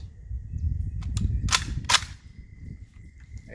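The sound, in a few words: AR-15 rifle firing rounds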